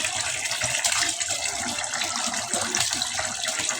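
Small fish are rinsed under running water, a close, steady splashing gush with irregular sloshes as the fish are handled, without any talk.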